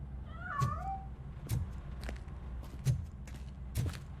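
A single gliding meow from a cat in the video game RoboCop: Rogue City rings out early, followed by soft, evenly spaced thumps like light footsteps in a quiet room.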